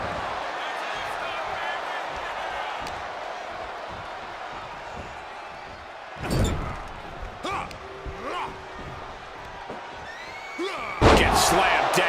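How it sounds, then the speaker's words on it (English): WWE 2K26 wrestling video game match with a wrestler slammed to the mat, loud thuds and impacts over constant arena crowd noise and commentary voices. "Gets slammed down."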